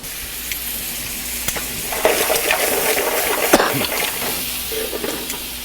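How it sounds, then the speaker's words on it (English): Scallops sauté lightly in a pan for a lobster bouillabaisse on Cape Cod, giving a steady close sizzle with scraping stir strokes and a few metallic clinks, no talking. "And I'm going to saute them lightly."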